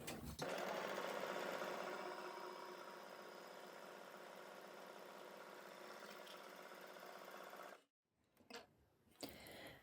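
An overlocker serger stitches steadily with all needle and looper tensions set to 4, giving a fast, even mechanical whir with a ticking rhythm that runs for about eight seconds, then stops abruptly, leaving faint handling noises.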